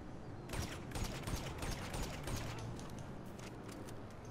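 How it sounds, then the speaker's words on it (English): Rapid bursts of gunfire from the video game Grand Theft Auto V crackle steadily for several seconds at moderate loudness, with a mechanical clatter underneath and no talk. "somebody's shooting you"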